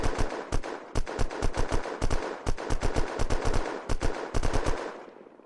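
Rapid bursts of automatic gunfire in the video game Unturned, close and loud, firing in quick clustered volleys with short gaps, then a quiet moment at the end.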